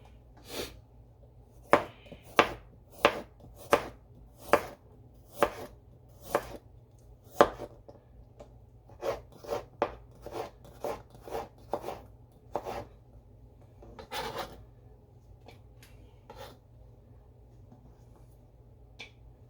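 A knife chops red onion on a cutting board for ceviche. The sharp, crisp strokes come in a quick regular rhythm, then turn faster and more uneven. The sound is close and clear, with a low hum underneath.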